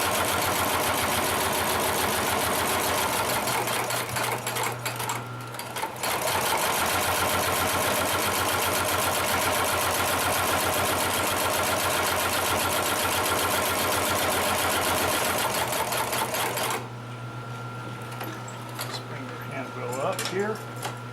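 A Consew 733R-5 sewing machine stitches through several layers of thick saddle leather, a loud, fast mechanical clatter running steadily with a brief pause, then stopping as a voice talks nearby.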